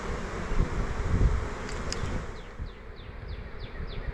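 Honeybees swarming around an eight-frame hive, a dense, continuous droning buzz close by with individual bees zipping past, alongside faint chirps from distant birds.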